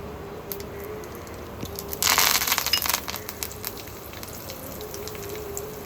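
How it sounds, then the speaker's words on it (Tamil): Curry leaves dropped into hot oil with spluttering mustard seeds, a sudden loud sizzling burst that fades back to a steady low crackle, close by. "கடுகு பொரிஞ்ச உடனே கொஞ்சமாக கருவேப்பிலை போட்டுக்கலாம்."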